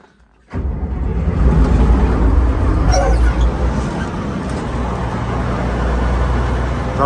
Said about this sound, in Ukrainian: Запускається з півоберту, не димить, працює дуже гарно.